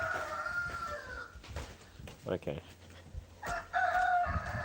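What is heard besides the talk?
chickens and rooster crowing on a farm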